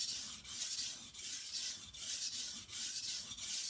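A knife blade stroked across a 400 grit sharpening stone under heavy pressure, producing repeated close, gritty rasping strokes in a steady back-and-forth rhythm of about five passes, with no voices.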